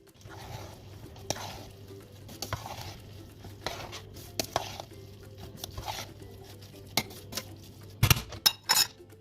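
Spoon stirring an onion and mince samosa filling in a pot, scattered scrapes and clinks against metal with a faint sizzle beneath, ending in a few sharper knocks, close and fairly quiet.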